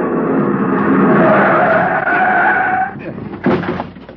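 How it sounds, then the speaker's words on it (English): Car braking hard and skidding to a stop against a curb in an old-time radio drama, a loud sustained tire screech that fades out and ends with a short thump. "The other driver had jammed on his brakes and finally skidded to a stop against the curb."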